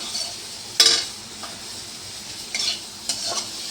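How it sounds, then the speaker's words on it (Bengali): A spoon stirs rohu fish curry seasoned with meat masala in a pan, giving a few sharp scraping clinks against the metal over a soft, steady sizzle of frying oil. "একটু নেড়ে চেড়ে"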